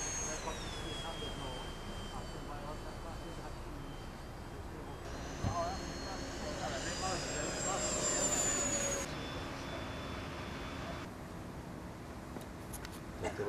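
A light airplane's engine drones in flight on a clear autumn day, a steady hum with a rising whine partway through, heard from a distance under faint background voices.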